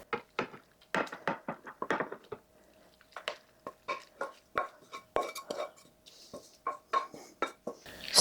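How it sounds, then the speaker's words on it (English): A metal spoon repeatedly scrapes and knocks against a pan while rice is stirred into a leftovers casserole, giving close, sharp clinks in an uneven rhythm. "Stir that in just a bit."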